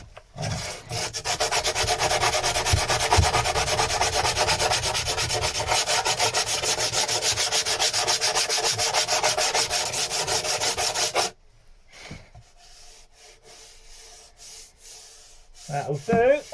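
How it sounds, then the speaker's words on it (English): A new flat sanding block rubbed over a wooden piece's bottom edge in a loud, continuous rasping scrape for about eleven seconds, then it stops, leaving near quiet with faint light knocks. "I need a flat edge to just run along the bottom. Yeah, my new sanding block."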